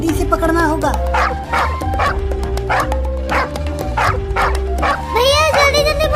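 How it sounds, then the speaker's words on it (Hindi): Cartoon dog barking in repeated yaps as it chases kittens, the barks mixed with animated character voices and a steady music bed throughout. "वो कुत्ता तो हमारे पीछे ही आ रहा है।"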